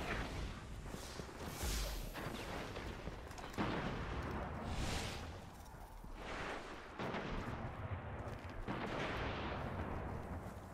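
Continuous gunfire and explosions from the sci-fi shooter game Destiny, a dense barrage of shots and blasts with whooshing bursts running steadily throughout, no talk.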